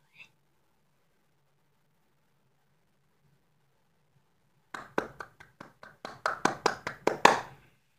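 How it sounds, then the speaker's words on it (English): A single person claps hands in a quick run of about a dozen sharp claps that speed up and grow louder over roughly three seconds, following a long quiet stretch in an indoor room. "I don't know why I'm clapping."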